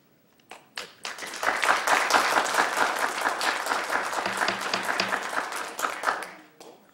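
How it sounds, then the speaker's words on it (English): An audience applauds at a county board of supervisors meeting, a dense burst of clapping that swells within a second, holds steady for several seconds, then tapers off, with a few isolated claps at the start. "I don't mind you applauding for your people"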